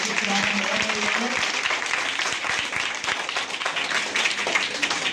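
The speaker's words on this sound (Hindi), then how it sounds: "एक बार जोरदार तालियां बजाइए।" Audience applause at a quiz-show event, a dense steady wash of many hands clapping that carries on for the whole stretch, with a brief voice or tone heard early under it.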